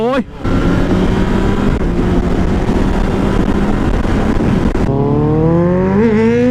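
A Yamaha MT-09 motorcycle accelerates hard in first gear, its loud, close engine roar climbing steeply in pitch, dropping briefly near the end, then winding up again.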